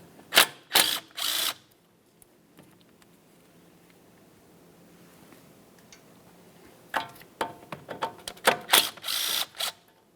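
Ratchet working loose the two 10mm bolts holding the front brake flex hose to the steering knuckle of a 2003-2007 Honda Accord: rapid close clicking bursts at the start and end with a quiet stretch between.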